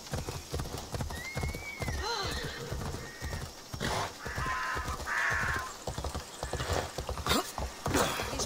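Hooves clip-clop steadily as a horse is ridden in Assassin's Creed Odyssey, with a neigh or whinny, bird caws and faint mechanical clatter in the game's surroundings; no one speaks.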